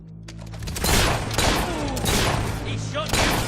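Gunfire in Fable 3 as a king faces a crowd of thugs: a dense burst of sharp shots and booms comes close and loud over game music, with voices talking around them.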